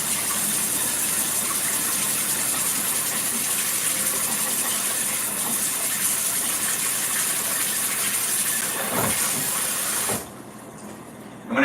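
Tap water running steadily in a home kitchen while a baking utensil is rinsed, a continuous hissing gush that stops abruptly near the end.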